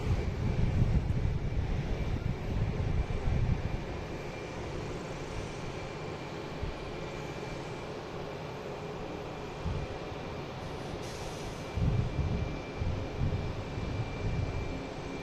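An Aer Lingus airliner approaching, a steady low engine rumble with wind buffeting, louder gusts near the start and again toward the end, no voices.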